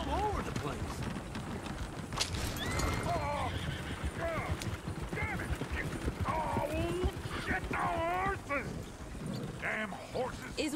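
A horse whinnies several times amid clip-clopping hooves and busy background noise, with faint voices murmuring underneath, in the video game Red Dead Redemption 2.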